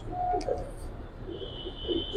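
Soft, low pigeon coos come in a few short, muffled bursts, close but quiet, amid light background noise, with a faint voice briefly present.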